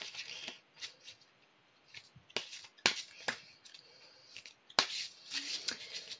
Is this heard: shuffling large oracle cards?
yes